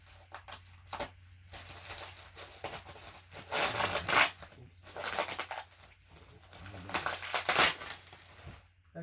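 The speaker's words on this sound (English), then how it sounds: "Now let's see if I can cut through the tape" Knife slicing through packing tape on a shipping package, bursts of crackling, tearing and crinkling plastic and cardboard noise in uneven surges, close up with short quiet gaps between strokes.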